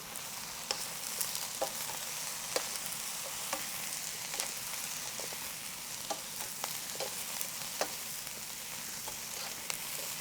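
Vegetables stir-fry in a pan, a continuous dense sizzle with scattered sharp crackles and pops throughout, steady and close with no talking.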